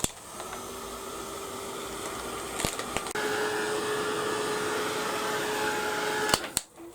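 A heat tool blasts steadily to dry mixed media artwork, a constant whirring hiss with a tonal hum that shifts pitch midway, broken by a few clicks and cutting off at the end.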